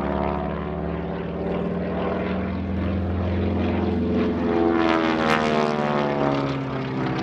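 A propeller plane's engine at an airshow drones steadily and loudly, a rich buzzing hum with shifting pitch as the aircraft passes close overhead while performing aerobatic maneuvers.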